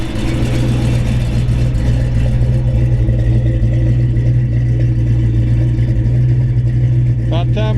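A 1970 Chevy Chevelle SS L34 396 V8 engine runs at a steady, rumbling idle close by, deep and continuous, with a light mechanical clatter on top.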